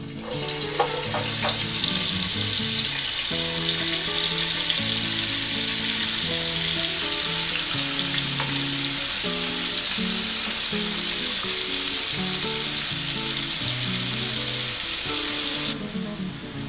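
Eggplant and other vegetables sizzle in generous extra virgin olive oil, a loud steady frying hiss with occasional stirring clicks.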